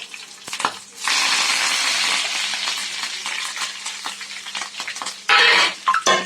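Spices sizzle and crackle loudly in hot oil, with a spoon stirring and scraping the pan between bursts of frying; no voices.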